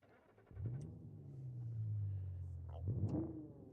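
A Gavril Bandito's engine starting in BeamNG.drive, a short crank followed by a low steady idle rumble that swells slightly near the end, heard close and fairly quiet.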